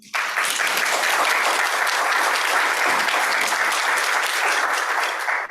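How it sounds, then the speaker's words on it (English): Audience applause for the hosts at a keynote panel session on integrating bottom-up and top-down approaches, a dense, steady round of clapping lasting throughout and fading at the end. "So please, a huge round of applause for them."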